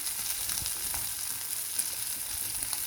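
Bata fish frying in hot oil, a steady close crackling sizzle that fills the whole moment without any voices.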